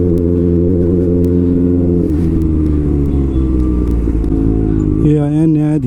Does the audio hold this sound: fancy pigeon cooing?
no